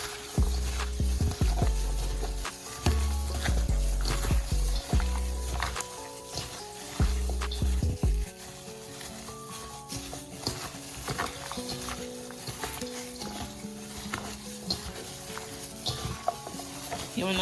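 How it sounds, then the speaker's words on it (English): Oxtail meat being mixed by hand with thyme, habanero pepper and onion in a bowl, giving repeated wet squelching and stirring noises up close, louder and heavier in the first half, then softer. "Now I'm gonna go ahead and just combine everything all together to get the flavors all in."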